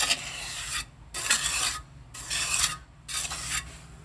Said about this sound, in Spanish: Y vamos a pasar nuestra cuchara.